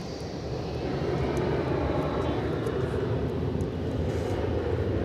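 A Lufthansa Cargo Boeing 777 freighter arriving at DFW Airport at night, a steady loud jet roar that swells in within the first second and holds close throughout.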